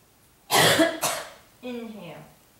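A person coughs during a yoga practice session: one harsh burst followed by a shorter second hack, then a voiced throat-clearing rasp, loud and close.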